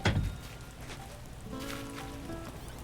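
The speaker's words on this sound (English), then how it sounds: "let's get out there into the torrential downpour" Steady rain pours down in Animal Crossing New Horizons, a soft, even hiss of torrential downpour on the ground that runs throughout, with light game music tones layered over it and no one speaking.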